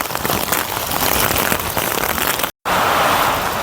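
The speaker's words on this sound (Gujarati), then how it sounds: "તો ફૂલ વરસાદ છે" Heavy rain pours down in Banaskantha, a dense, loud roar of falling water on surfaces that fills the whole stretch, broken only by a split-second cut.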